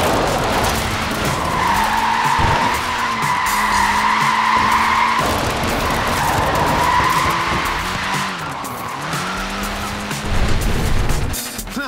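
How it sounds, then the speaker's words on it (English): Tyres on a small Mini car squeal and skid repeatedly in Forza Horizon 4, a loud sustained screech with wavering pitch over a steady engine drone, with brief breaks and surges as the car slides. "Look at that, laying down some rubber there."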